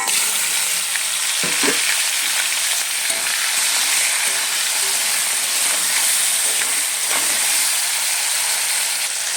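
Boiled, peeled figs fry in hot oil in a wok, giving a loud, steady sizzle that runs the whole time, broken by a few stirring knocks and no talk.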